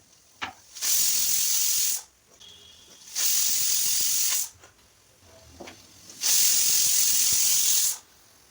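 A pressure cooker cooking a vegetable palya lets off steam in three loud hissing bursts, each lasting over a second with short quiet gaps between them.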